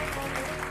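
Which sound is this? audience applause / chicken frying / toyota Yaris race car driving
audience applause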